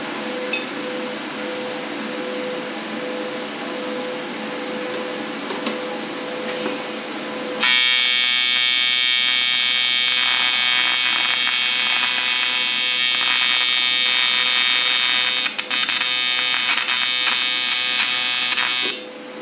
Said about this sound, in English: I've got a welding rod. Let's see if we're